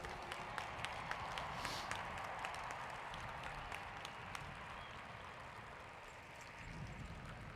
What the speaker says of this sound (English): the graduates should applaud their families and friends who have supported them through these years